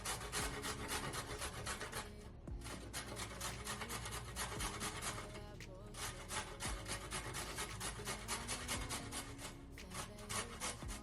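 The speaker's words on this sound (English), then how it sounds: "then I decided to grate up some carrots." Carrots grated by hand on a grater, a steady rhythmic rasping of quick repeated strokes, close and continuous, with a couple of brief pauses.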